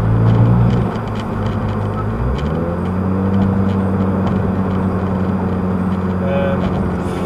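Continuous rumbling of passing road traffic nearby with steady road noise, a low hum shifting pitch as vehicles move past.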